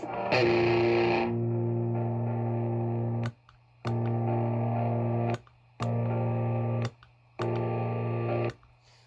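Distorted electric guitar played through a noise gate pedal, several loud sustained chords that cut off abruptly into near silence between them, with no feedback or hiss in the gaps.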